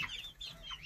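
Buff chickens cluck softly in a coop, a few close, brief calls over low farmyard background noise.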